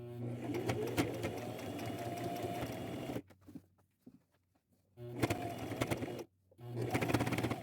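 A sewing machine top stitches a dress seam in a steady, close whirring run, stops briefly, starts again, pauses once more, then resumes, with faint handling noises in the gaps.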